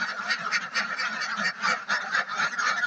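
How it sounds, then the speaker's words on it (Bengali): A flock of ducks calls loudly and continuously, harsh overlapping quacks and honks crowding together close by. "আমার হাঁস ঘর থেকে বের হওয়ার জন্য খুবই অস্থির হয়ে গেছে।"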